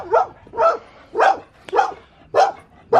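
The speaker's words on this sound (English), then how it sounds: "That's a blind dog" A blind dog barks in short, evenly spaced yips, six sharp calls about half a second apart, close and loud with quiet gaps between.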